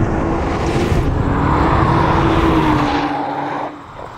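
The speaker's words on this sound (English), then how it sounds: "downshifting the spectacular dual-clutch gearbox and onto the front straight, putting the finish line into my sights" A 2013 Nissan GT-R Black Edition with a dual-clutch gearbox racing on a track: a loud, close engine howl climbing steadily in pitch, then a downshift and a fade near the end, with no talk.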